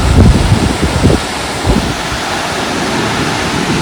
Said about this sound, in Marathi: ते धबधबा दोन स्टेजमध्ये पडतोय हा पहिला स्टेज आहे